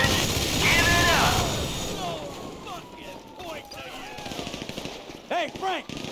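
Machine gun fire from the video game GTA 5 during a heist shootout, rapid bursts mixed with game effects, shouting voices and music-like swells.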